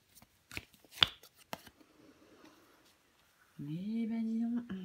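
Tarot cards being laid down and handled on a table: several soft, distinct taps and slides close by, followed by a quieter stretch and then a steady tonal hum at the end.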